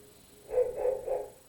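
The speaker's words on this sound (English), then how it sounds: "There's a dog next door, a pit bull." A pit bull barks next door, three quick muffled barks in a short burst, moderately close but dulled as if through a wall, with no talking.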